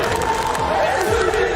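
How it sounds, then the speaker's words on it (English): A large esports watch-party crowd cheers and roars in unison over a big play at a PUBG Mobile grand final, a dense, loud, continuous wall of shouting. "A celebration in unison for the nation as they pop off on that one."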